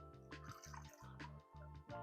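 A short pour of a Manhattan cocktail with dripping, splashing sounds, steady and close, under a droning background hum.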